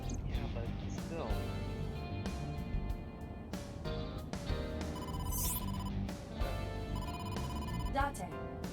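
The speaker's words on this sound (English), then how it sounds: "incoming call from the boss" In AI: The Somnium Files video game, an incoming phone call rings with repeated electronic tones over game music. Bright chiming accents come through along with speech-like sounds.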